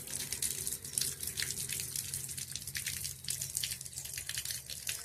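Guava rinsed under a running tap, a steady close splash of water with small drips and gushes throughout, heard with no talk.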